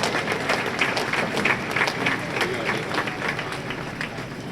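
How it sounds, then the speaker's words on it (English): Spectators at a junior bowling tournament clap in a steady wash of applause that holds evenly throughout, with a few voices faintly audible within the crowd. "let's give these guys a big round of applause for making it there"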